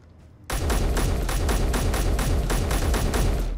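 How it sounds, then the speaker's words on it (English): Sustained automatic gunfire in the Space Engineers video game bursts in after a brief quiet moment and continues as a loud, rapid, steady stream of shots. "What's shooting?"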